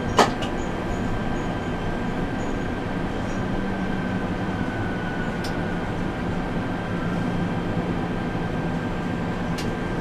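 Dualis tram-train running between Le Bourget and Epinay, heard from inside the driver's cab: a steady loud rolling rumble with a faint tonal whine and a few sharp clicks, no talk.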